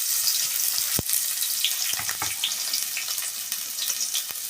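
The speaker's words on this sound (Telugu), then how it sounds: "ఇవి బాగా నూనెలో వేగాలండి" Onions and dried red chillies frying in oil in a pan, a steady close hiss of sizzling with scattered crackles and a couple of scraping stirs.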